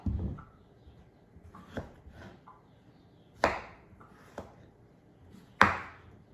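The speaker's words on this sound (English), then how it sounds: "So cut it into bite sizes." A knife chops through a potato on a board, a handful of sharp separate cuts spaced a second or so apart, close and clear against a quiet background.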